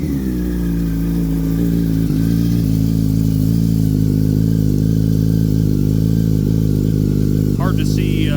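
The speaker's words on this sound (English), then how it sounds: "I will know by hearing it when we crank this thing up, whether it's turning over faster or slower." A Gen 4 2005–2008 Yamaha YZF R1 sport bike idles steadily and loudly after starting on a fresh lithium battery, a constant low engine hum throughout with a brief mechanical clatter near the end.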